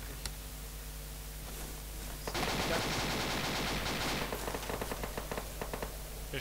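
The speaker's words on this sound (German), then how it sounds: "Schuss direkt rechts von uns aus den Bäumen." Rapid bursts of gunfire from trees in ARMA 2 rattle out, a single shot first and then a sustained automatic volley that tapers into scattered shots, fairly close and loud.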